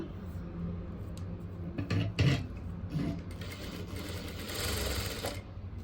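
A sewing machine stitches across the corners of fabric while making thread piping, a steady mechanical whir running the length with a few louder bursts in the middle, close by and moderately loud.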